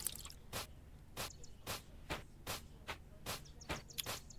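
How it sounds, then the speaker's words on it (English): Crops being watered in a farming video game, a run of short, sharp splashy squish effects repeating at an uneven, quick rhythm, close and clear with no talking. "And then I water every single crop."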